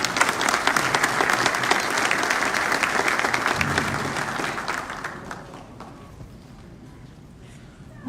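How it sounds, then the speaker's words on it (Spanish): Dense, loud applause from a large audience at an education consultation forum, sustained for several seconds before gradually thinning out and fading. "Vamos a recibirlo con un caluroso aplauso."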